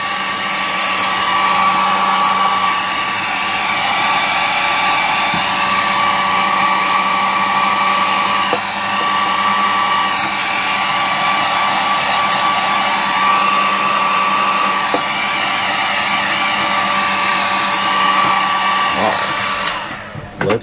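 A heat gun blows steadily on a part being heated for a leak repair, a loud, continuous whine and rush of air that holds for about twenty seconds before cutting off.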